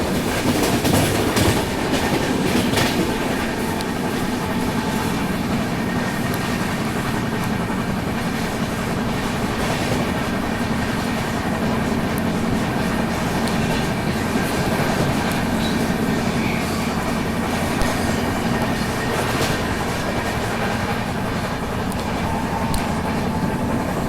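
Shree Shakti AC Express train running steadily on rails while overtaking another express, a continuous close rumble with rhythmic clickety-clack of wheels over rail joints throughout, no talking.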